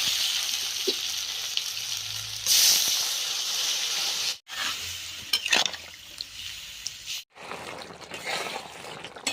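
Water poured into a pan of sizzling okra, potatoes and prawn masala sets off a loud hiss and burst of steam, settling into a steady bubbling sizzle with brief pauses, close by and without talk.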